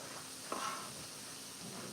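Tomatoes sautéing in a pan for birria tacos, a steady soft sizzle with a brief scrape of stirring near the middle, close and fairly quiet with no talking.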